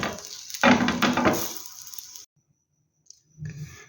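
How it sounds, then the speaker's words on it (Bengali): Patishapta pitha, a Bangladeshi rolled crepe, frying in a pan. A burst of crackling and sizzling runs for about a second and a half, fades, and gives way to near silence before a short rustle near the end. "এই একইভাবে বাকি পিঠাগুলো আমি তোমাদের ভেজে আমি দেখাচ্ছি।"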